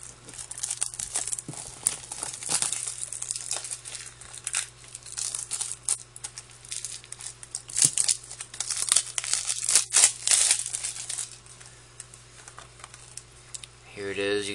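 A Blu-ray case having its plastic wrap removed during an unboxing, with close crinkling and tearing of thin film in irregular bursts over a low steady hum, fairly quiet.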